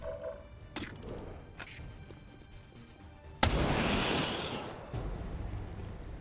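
A sharp, loud gunshot in the video game XCOM 2 bursts out midway, followed by a dense rushing blast that lingers, with a few fainter cracks before it against a murky background.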